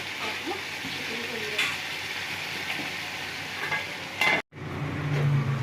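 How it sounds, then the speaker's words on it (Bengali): Spice masala being stir-fried in a pan for a potato-and-chicken curry, a steady close sizzle with occasional scraping, briefly cut off near the end before resuming with louder frying. "মশলাটা একটু ভালো করে কষবো"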